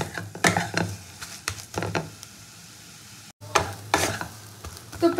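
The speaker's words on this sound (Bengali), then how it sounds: "খুব ভালো করে নেড়ে চেড়ে পুরটা রেডি করে নিতে হবে।" Fish chop filling, made with lime juice, is stirred in a frying pan, giving bursts of scraping and soft sizzle in an uneven rhythm, with a short quiet gap midway and no talking.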